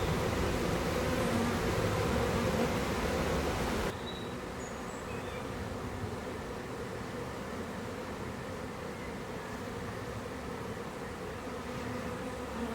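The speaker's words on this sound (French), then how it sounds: "Sur le haut des cadres, on voit les abeilles qui battent le rappel" A honeybee swarm hums as the bees walk into a small nucleus hive box, a steady soft drone that drops in level partway through and then keeps buzzing quietly alone.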